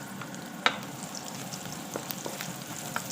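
Ginger, onion and garlic sizzle in a hot pan with a steady fry and light crackle, broken by a sharp clink of a utensil and soft stirring taps.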